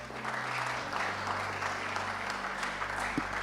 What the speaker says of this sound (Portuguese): Alguém aplauda o Pai.